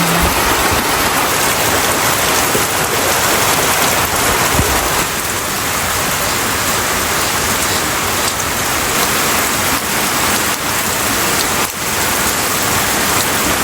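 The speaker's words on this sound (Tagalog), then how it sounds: "At dito po sa amin talagang walang sawa ang ulan." Heavy rain pours steadily on a street, a dense unbroken hiss of falling water that stays loud and even throughout, with no voices.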